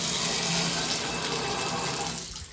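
Water runs from a hotel shower in a room at the Hyatt Centric Fisherman's Wharf, San Francisco: a loud, steady rushing hiss that eases off abruptly at the end.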